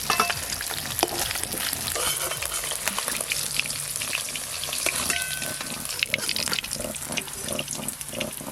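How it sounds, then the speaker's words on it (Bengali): Snakehead fish fry in a pan of hot oil, a loud continuous sizzle with stirring clatter and occasional scraping across the whole stretch. "মাছগুলো উল্টে পাল্টে একটু হালকা করে ভেজে নিয়েছি, এবার তুলে নেব"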